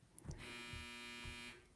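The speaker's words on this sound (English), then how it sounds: "That was my dryer." Clothes dryer buzzer sounding one sustained, steady electronic buzz of about a second, fairly faint and heard indoors.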